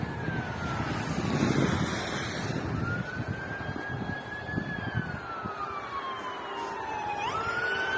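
A fire engine's wailing siren sweeps up and down over steady traffic noise in Moncton, Canada, passing at moderate distance, loud at first and slowly fading.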